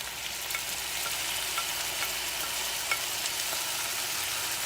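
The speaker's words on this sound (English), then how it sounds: "now to that, we're going to add our beef back to that now." Beef frying with onions in a skillet for a one-pot beef and potato meal, a soft steady sizzle with occasional faint crackles and pops, quiet and close.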